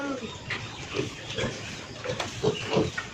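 Pigs grunting and squealing nearby, a cluster of overlapping snorts and oinks in quick irregular bursts.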